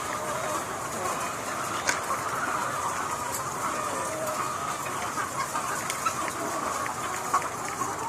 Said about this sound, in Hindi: वो मुर्गियां जो बड़ी हैं और अंडे वगैरह के लिए जो है यहाँ पर इनको ट्रांसफ़र किया जाता है।